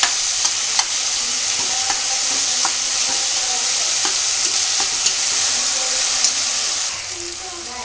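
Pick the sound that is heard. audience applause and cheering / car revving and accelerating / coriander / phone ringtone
coriander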